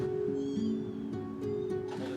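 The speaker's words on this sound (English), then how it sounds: "There's a cat there." A cat living with a family of kittens in a drain pipe in California meows in a few drawn-out, tonal calls, close and clear over a low steady background hum.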